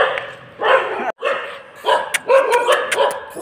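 A dog barks nearby on a trip in Kolkata, a run of loud, sharp barks in uneven bursts with short gaps between them.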